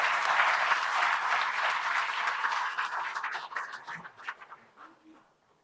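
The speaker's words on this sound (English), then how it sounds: "Please give a big round of applause" A large audience at a national ophthalmology conference inauguration claps loudly and steadily, with the applause gradually tapering off into a few last scattered claps.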